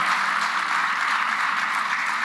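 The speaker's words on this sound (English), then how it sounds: "we deserve a big round of applause for Liana" An audience at a Mpumalanga party congress applauds steadily in a dense, even wash of clapping that fills the whole stretch at a strong level, with no voices standing out.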